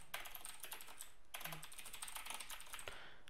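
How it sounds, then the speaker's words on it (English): Rapid clicking of a computer keyboard as a short phrase is typed while programming a game launcher, steady close keystrokes filling about three seconds with a brief pause midway and no talking. "just type new launcher"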